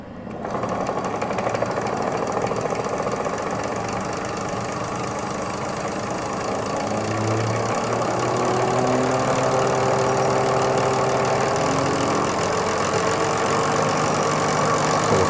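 A Lucas ignition distributor spins on a test machine with a steady, close mechanical whir and hum that climbs slightly in pitch partway through as it speeds up.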